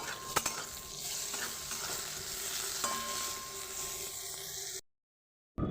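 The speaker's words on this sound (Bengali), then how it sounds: "বেগুনগুলোকেও দিয়ে দেবো অল্প পরিমাণ লবণ দিয়ে আমি ভেজে তুলে নেবো" Eggplant pieces fry in hot oil with a little salt, a constant close hissing sizzle with occasional stirring clicks, ending in a sudden cut to silence before a brief return.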